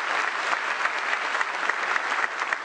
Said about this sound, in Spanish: les agradecería un aplauso a todos los compañeros